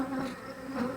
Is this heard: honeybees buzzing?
yes